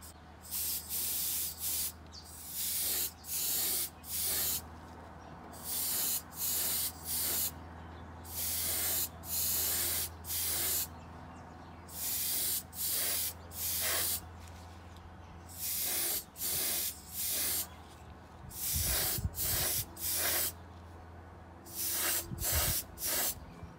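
A spray gun lays metallic red paint onto a 1964 Chevelle SS in bursts of loud hissing, each lasting about a second, repeating in a steady on-off rhythm over a low background hum.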